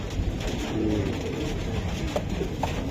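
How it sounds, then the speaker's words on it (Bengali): Silver-marked pigeons coo softly and steadily beneath a dense bed of ambient noise, with a few brief higher calls standing out near the end; no voices are heard. "10 নম্বরে সিলভার কাজ করা কবুতর"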